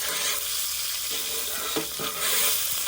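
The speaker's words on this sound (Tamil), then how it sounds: "வெங்காயம் குடமிளகா கோசு தக்காளி பூண்டு எல்லாத்தையும் ஒன்றா போட்டு வதக்கிறோம்" Garlic, onion, capsicum, cabbage and tomato sautéing together in a pan for village-style beer pepper chicken, a loud steady sizzle with scraping stirs and clinks of a spoon against the pan.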